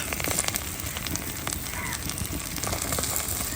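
Continuous crackling sizzle of onions frying in hot oil in a wok, dense and steady throughout, with no talking.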